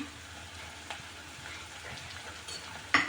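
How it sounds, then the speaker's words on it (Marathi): Onion sautéing in a pan, a soft continuous sizzle with faint stirring and a louder clatter right at the end. "कांदा मस्त परतून घ्यायचा"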